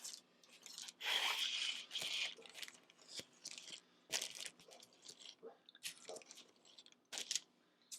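Soft, close scraping and squishing as a spatula spreads a thin layer of jam over a layer of Italian rainbow cookie cake, in short irregular strokes with quiet pauses between.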